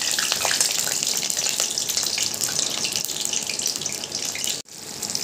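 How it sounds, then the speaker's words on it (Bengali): Stuffed ash gourd slices fry in hot oil, giving a steady, dense close-up sizzle and bubbling hiss that runs continuously, briefly dropping out near the end. "চালকুমড়োগুলোকে কিন্তু আমি ফ্রাই করে নিচ্ছি এপিটোপিট করে"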